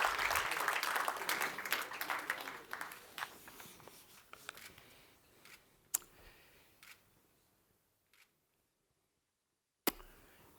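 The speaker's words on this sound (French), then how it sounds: "Vous applaudissez." An audience at a veterinary awards ceremony applauds, clapping loud at first and then thinning into scattered claps that fade to near silence, with one last isolated clap.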